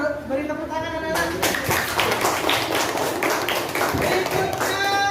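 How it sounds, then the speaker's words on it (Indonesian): Children in a classroom clap their hands together in a dense burst of applause, loud and close, beginning abruptly after a brief moment of speech and continuing steadily to the end. "Beri tepuk tangan anak-anak."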